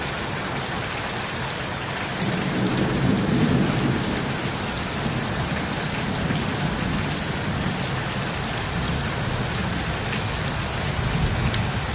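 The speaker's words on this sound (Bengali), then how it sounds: "বৃষ্টিতে বাইরে যাওয়ার কোনো উপায় নেই।" Heavy rain pours steadily outdoors on a green rural homestead with ducks and chickens, thunder rumbling low beneath the constant hiss for several seconds, no voices over the downpour.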